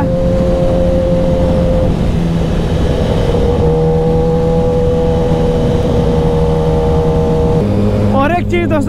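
Sport bikes, a Ducati, a Hayabusa and a Kawasaki ZX-10R, ride together with a loud steady engine drone and wind roar, pitch shifting slightly as they cruise, a voice talking over it.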